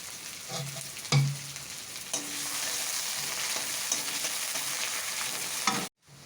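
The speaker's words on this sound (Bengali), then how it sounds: "একটু আদা রসুনের ফোড়ন দিয়ে দিলাম, একটু পেঁয়াজ দিয়ে দিলাম, পেঁয়াজ ফোড়ন" Sliced onion, ginger and garlic hit hot cooking oil and sizzle continuously, with a brief clatter of utensils and stirring before the frying noise cuts off abruptly at the end.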